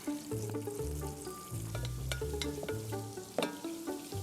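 Hot oil sizzling in a pan with mint and chili flakes, a steady crackling fry with sharp pops, under a tonal musical background.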